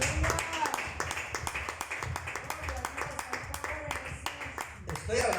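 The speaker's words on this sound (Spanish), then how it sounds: "Denle un aplauso al Señor." A church congregation claps in a steady, rhythmic beat for several seconds, with voices audible beneath the clapping.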